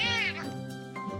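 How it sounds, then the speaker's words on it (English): A pet cat gives one short, bright meow that rises and then falls away in about a second, heard close and alone. "I mock my cat constantly because she sounds like she's just a creature"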